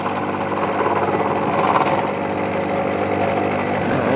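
Milling machine cutting metal parts for a small finger engine, a steady loud motor whine with a continuous cutting drone throughout, no talk.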